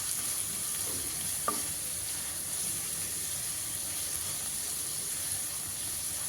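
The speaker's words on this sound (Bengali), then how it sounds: "পেঁয়াজ আর রসুন এবার খুব ভালোভাবে ভেজে নিতে হবে। গোল্ডেন ব্রাউন কালার করে ভাজতে হবে।" Chopped onion and garlic fry steadily in a pan, a continuous soft sizzle and hiss with one brief clink of a utensil partway through, no voices.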